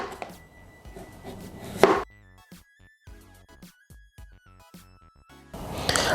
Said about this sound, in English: So you can just peel them down like this.